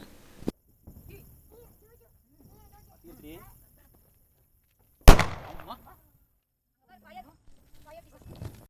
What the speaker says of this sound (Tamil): ஒன் பை ஒன்னாக ஒரு ஒரு பட்டாசாக வெடிச்சுட்டு இருந்தோம்